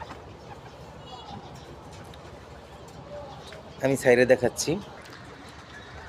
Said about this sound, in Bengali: দেখেন, এটা একটা মাদি কবুতর।